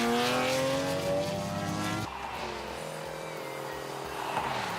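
The Bathurst 1000-winning race car snarls through a tight concrete street section at the 2017 Adelaide Motorsport Festival. Its loud engine note climbs in pitch, then drops abruptly as it passes close by and pulls away.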